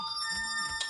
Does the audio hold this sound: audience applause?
no